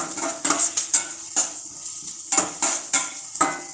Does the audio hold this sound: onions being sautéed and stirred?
yes